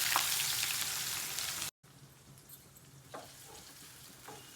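Onions with cumin seeds frying in oil in a pan for chana curry, a loud close sizzle that drops sharply after a brief cut and then continues as a quieter crackle with a few light stirring clicks.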